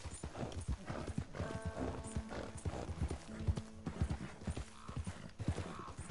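Horse hooves clip-clop at a steady trotting rhythm in the Red Dead Online video game, with a brief whinny partway through and faint background game sounds.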